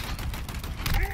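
Gunfire from a video game trailer, a dense burst of shots packed into just over a second, loud and close, with people talking over it.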